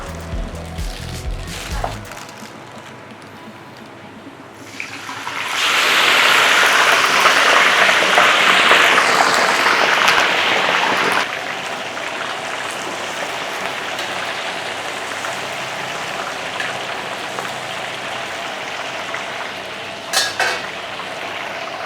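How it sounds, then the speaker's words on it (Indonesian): Chicken pieces drop into very hot oil and set off a loud, dense sizzle that spits and crackles close by, then eases into a steadier fry. "Sekarang gue udah siapin minyak yang sangat panas. Ayam ini akan gue goreng sampai setengah matang."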